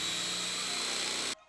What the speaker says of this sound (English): I'm gonna grind them down and then it should equal 1/2 cup of oat flour.